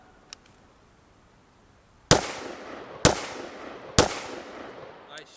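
Three sharp AR-15 rifle shots crack out at about one-second intervals outdoors, each with a decaying echo, after a quiet stretch with a faint earlier tick.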